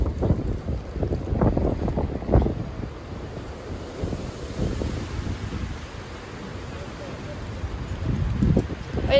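Extreme wind batters the microphone at Sleaford East railway level crossing. It makes a continuous roaring, gusting rush that rises and falls, with a voice speaking faintly under it at times.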